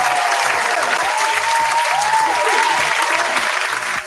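An audience applauds a city traffic official during a live event, a steady, loud wash of clapping sustained evenly throughout, with a faint tonal voice-like line running underneath.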